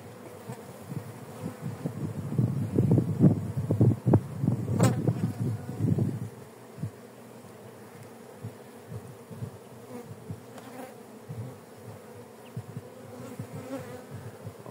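Honeybees from a strong colony buzz loudly at an open beehive, with dense, close buzzing in the first half that thins to scattered individual bee passes and a quieter hum.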